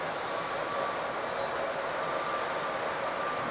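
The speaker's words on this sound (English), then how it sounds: "the trolley zipping around" A model trolley runs around a layout track in a home model railway, giving a steady whirring, rushing hum that stays even and continuous for the whole stretch.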